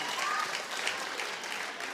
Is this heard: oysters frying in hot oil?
no